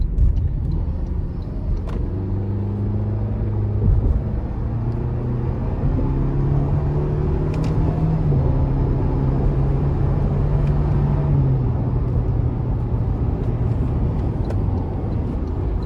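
A 2025 Toyota Tacoma SR accelerating in manual mode, its engine note rising in steady stepped pitch climbs with distinct shifts, a continuous close interior drone with road rumble throughout.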